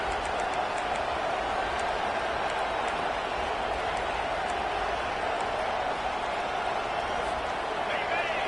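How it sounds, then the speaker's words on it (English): A loud stadium crowd in the NCAA 25 college football video game roars in a steady, dense wash of noise that holds without a break for the whole stretch. "This crowd trying to make life miserable for this offense."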